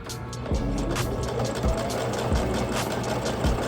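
A sewing machine stitches a seam in short runs, a dense close mechanical whir broken by soft thumps about every half second to second, with no talking.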